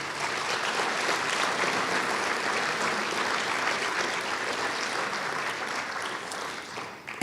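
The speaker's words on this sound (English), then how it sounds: "Please give them a round of applause." An audience at a Martin Luther King Jr. Day celebration applauds steadily, a dense even wash of clapping that holds throughout before tapering at the end.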